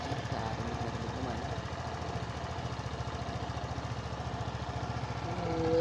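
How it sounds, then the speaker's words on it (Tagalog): A Griffin 180i motorcycle engine idles steadily after an oil change with Shell Advance AX7, giving a close, even, rapid putter with a slight rise in level near the end and no talk over it. "Ito yung tunog ng kanyang makina."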